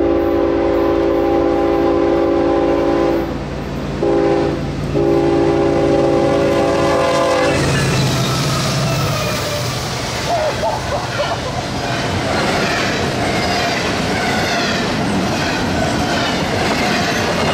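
A Norfolk Southern NS-23Q northbound freight train sounds its chord horn in a few long blasts, then rumbles past with loud rhythmic clickety-clack of wheels and squealing cars, close and continuous.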